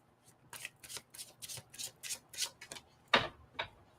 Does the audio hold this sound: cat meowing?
no